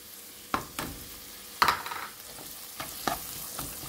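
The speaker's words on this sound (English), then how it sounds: "So now I add the chopped tomato" Chopped tomato goes into a pan of sautéed onion, giving a soft steady sizzle punctuated by a few sharp clinks and scrapes of a spoon stirring, fairly quiet and close with no talking.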